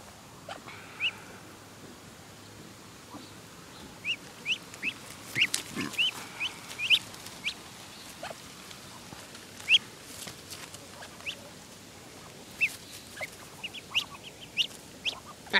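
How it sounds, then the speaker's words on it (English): Ducks give scattered short calls, sporadic and fairly faint over quiet outdoor background, with brief clusters of peeping quacks spread across the stretch. "Little cute little duckies."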